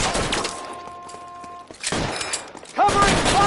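Gunshots during a shootout in the video game L.A. Noire, a few loud cracks early and another burst near the end, with breaking or shattering noise and in-game sound effects between them.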